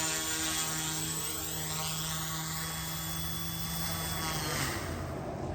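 RC scale model UH-1D Huey helicopter descending slowly, a steady close-up whine of motor and rotor with sustained tonal harmonics and a faint shifting high pitch, continuous and loud throughout.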